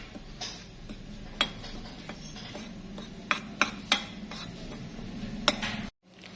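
Metal spoon scraping and clinking against a bowl while flour is mixed with salt and white pepper for KFC-style chicken wings, with soft rubbing and a few sharper taps, close and fairly quiet.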